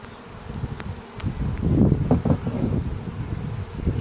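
Bees buzz around an opened, abandoned hive during requeening, a steady low hum with some wind noise against the microphone and rustling, outdoors and fairly close.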